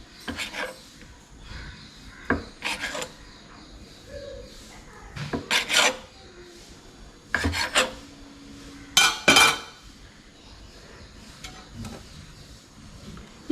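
A knife cutting chicken momo dough into pieces on a board, with a series of short thuds and scraping knocks in irregular bursts, close and moderately loud with no talk.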